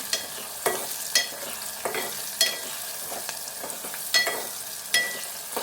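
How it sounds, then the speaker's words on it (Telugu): Onions sizzle and fry in a pan for okra curry while a spoon scrapes and stirs them in repeated strokes, the steady hiss of frying beneath the sharper scraping sounds. "ఇలా మధ్యలో మధ్యలో కలుపుకుంటూ ఉండాలి ఎందుకంటే సైడ్కి మాడిపోతాయి అన్నమాట"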